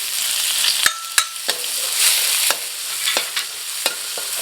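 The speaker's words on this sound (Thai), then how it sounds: "อันนี้ก็ผัดให้หอมเลยนะครับ" Chopped garlic and chili stir-frying in a little oil, a bright, loud hiss punctuated by sharp metallic clanks of a utensil against the pan every half second or so, no voices.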